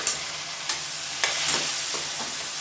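Three medium tomatoes, chopped, sauté in hot oil over a medium flame, giving a loud continuous sizzle broken by a few spaced stirring scrapes.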